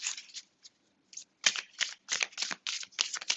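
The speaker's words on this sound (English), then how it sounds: "If you don't like watching the shuffling and the cards come out" A Light Seers tarot deck by Chris-Anne is shuffled by hand, giving a soft, quiet, close riffle of cards. Short bursts come at first, then a faster run of rapid flicks.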